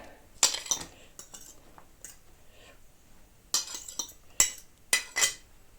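A utensil scrapes and clinks against a bowl in several quick bursts, close up, as apple pieces are stirred through a thick pancake batter.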